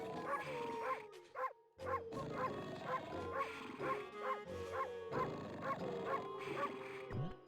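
A dog in a video game barks and yips repeatedly in short rhythmic bursts over steady game music, with a brief pause midway before the barking resumes.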